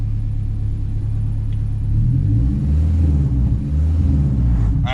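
A 500HP turbocharged Honda K24 engine rumbles at a deep idle, then revs up in a couple of swelling blips that settle back, loud and close.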